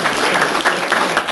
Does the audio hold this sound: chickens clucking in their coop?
no